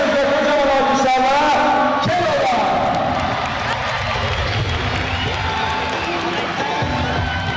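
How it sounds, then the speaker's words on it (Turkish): Crowd at a lantern parade in Konya cheering and applauding loudly, a dense roar of voices and clapping that swells early and then settles into steady cheering. "Karşınızda kocaman alkışlarla"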